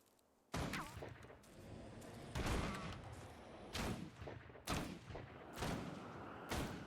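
Bursts of automatic gunfire in a video game, several loud, rapid volleys separated by short gaps, close and booming with no voices over them.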